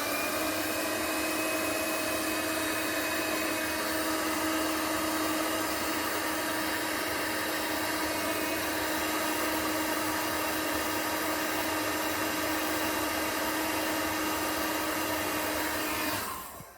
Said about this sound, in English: So I've got a 2500 watt heat gun here, used for wallpaper stripping, but it's really good for sorting out heat shrink.